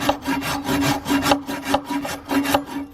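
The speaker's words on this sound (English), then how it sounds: "Alright, I sawed most of the way through that." Steady back-and-forth strokes of a hand saw cutting through material while installing inlets on a BMW N54 engine, close and loud, with a regular rasping rhythm of about two strokes per second and no talk.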